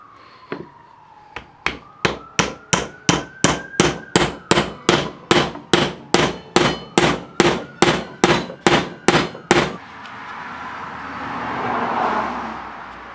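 A rivet is hammered into a custom fixed-blade knife handle in a steady run of about twenty sharp metallic strikes, loud and close, followed by a few seconds of broadband rushing noise like a passing car.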